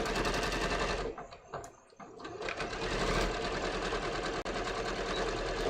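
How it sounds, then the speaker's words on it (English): A sewing machine stitches a dress seam with back tacking at the ends, a close rapid mechanical whir that briefly slows and dips near the start before running steadily again. "You notice I'm back tacking on the ends."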